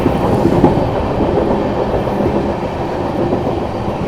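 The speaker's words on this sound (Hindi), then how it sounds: "अपनी श्री शक्ति एक्सप्रेस स्किप करने वाली है सरहिंद जंक्शन रेलवे स्टेशन" The Shri Shakti AC Express from Katra to New Delhi runs at speed in dense fog, giving a steady, loud rumble of wheels and carriage with faint rhythmic clatter throughout.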